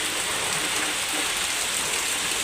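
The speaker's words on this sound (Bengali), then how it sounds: "আরে কি বিশাল বৃষ্টি" Heavy rain falls on flooded village fields as trees sway, a steady unbroken roar of hiss at even loudness with no voices.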